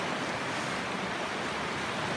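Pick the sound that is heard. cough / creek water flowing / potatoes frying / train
creek water flowing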